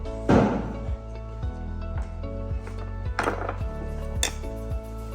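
Spoon scraping and knocking against a bowl while white chocolate is mixed into cake mixture, with a few louder clanks and scrapes over a steady low hum, close up and without speech.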